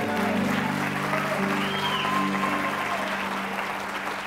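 A church congregation applauding during a service, continuous clapping from the crowd blended with sustained musical tones and a faint voice underneath.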